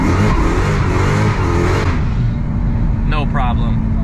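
A Hellcat Charger with a 6-speed manual swap accelerates hard in third gear, its engine roaring loud and close throughout, with a brief voice near the end.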